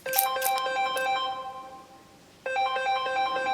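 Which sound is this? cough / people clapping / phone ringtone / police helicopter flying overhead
phone ringtone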